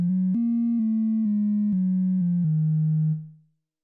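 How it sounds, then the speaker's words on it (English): A pure, smooth sine-wave tone from a Behringer Neutron synthesizer steps through a few slightly different low pitches in short notes, then fades out. "Sine wave."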